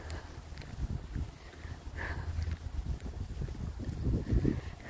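Wind blowing through a park gusts across the microphone in low rumbling buffets, rising and falling steadily and growing stronger toward the end, with no voices heard.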